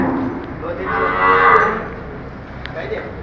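Dairy cows in a farm shed, with one loud, close moo swelling and fading over a few seconds, followed by quieter ambient noise.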